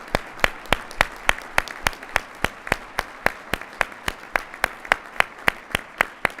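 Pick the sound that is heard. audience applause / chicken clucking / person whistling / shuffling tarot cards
audience applause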